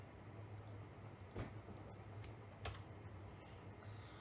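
Quiet clicks from a computer keyboard being typed on, scattered light keystrokes with a couple of sharper taps, over a low steady background hum.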